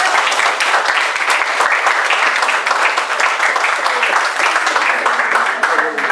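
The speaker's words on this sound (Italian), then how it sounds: "Facciamo un applauso." Sustained applause from an audience at a ceremony honouring a women's five-a-side football cup team, dense steady clapping for about six seconds with no gaps.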